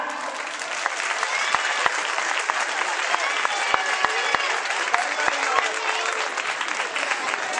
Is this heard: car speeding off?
no